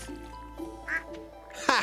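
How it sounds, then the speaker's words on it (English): Short nasal quacks from clicked ducks in the video game Stardew Valley, two or three quick calls over soft game background tones. "Those are ducks."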